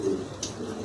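Lahori pigeons in a showroom give a low, soft coo that lasts about a quarter second, with a faint background murmur and one short brighter click partway through.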